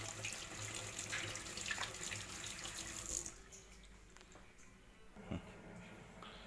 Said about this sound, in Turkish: Şimdi buna sıcak su çektik işimiz kolaylaşsın diye.